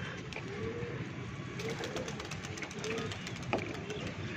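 Pigeons coo in soft, repeated low calls nearby against a steady background hum, with a brief sharp flutter or tap midway; the cooing recurs every second or so, fairly faint.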